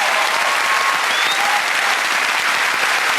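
A television studio audience at a chat show bursts into loud, sustained applause with some cheering, a dense wall of clapping filling the whole stretch without pause.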